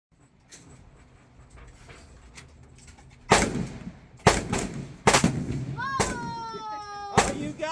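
Loud gunshots from a Radical Firearms AR-15 rifle fired at pumpkins outdoors, four sharp broadband cracks spaced about a second apart, with quiet background chatter and a voice rising near the end.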